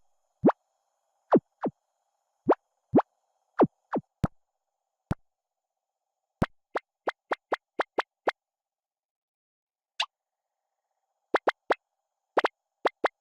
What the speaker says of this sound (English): here I'm going to let you listen to the sound effects for the menus in Luna Lane